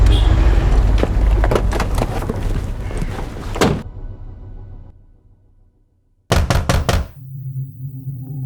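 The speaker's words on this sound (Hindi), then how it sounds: "दरवाजा तोड़ा।" A door being forced open: a quick run of loud heavy knocks and thuds, then near silence, then another burst of hard impacts.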